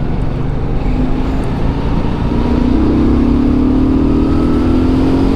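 Car engine accelerating hard in sport mode, a steady loud drone with rising tones as the revs climb toward 5,000, close and continuous with no talk.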